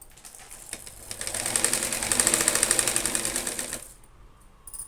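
A sewing machine runs in one sustained stitching burst for a few seconds, a steady rapid mechanical whir that swells and then stops, with no talking, while tips are stitched on a handmade hanging tassel ornament.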